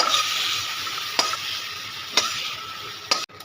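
Prawns coated with salt and turmeric frying in oil in a kadai, giving a bright steady sizzle broken by three sharp spatula clinks before the sound cuts off abruptly.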